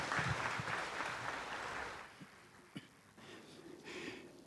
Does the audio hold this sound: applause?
yes